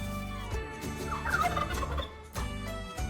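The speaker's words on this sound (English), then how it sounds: "A turkey is a big bird." A turkey gobbles in a rapid warbling burst, with several birds heard and a steady tonal bed running underneath, close and prominent with no speech.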